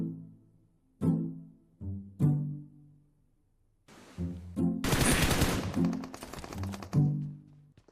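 Bursts of film-scene gunfire from a Hindi-dubbed South Indian action movie, with sharp isolated shots followed by a dense, loud volley near the middle, set among tonal soundtrack sounds.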